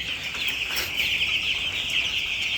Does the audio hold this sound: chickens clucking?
yes